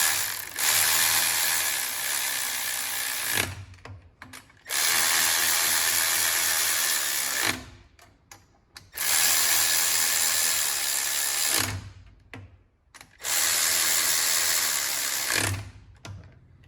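Bolts driven down with a power driver during installation of a Janus 250 Stage 3 and 4 upgrade, four long loud whirring bursts of about three seconds each, separated by short pauses and clicks, close up with no voices.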